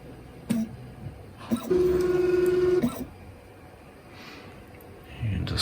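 An AnyCubic Mega Zero v1.0 3D printer running Klipper lays down its intro line: short stepper-motor whines, then a sustained steady tonal buzz for about a second, stopping and starting again, heard close up with no talking.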